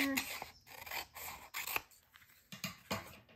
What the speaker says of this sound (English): So I'll cut it approximately and then trim it down later